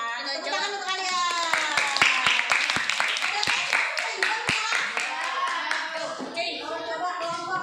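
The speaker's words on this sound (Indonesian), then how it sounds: "Tepuk tangan untuk kalian." Children in a classroom clap their hands in loose, uneven bursts, some sharp slaps standing out, while young voices chatter and call out over the clapping.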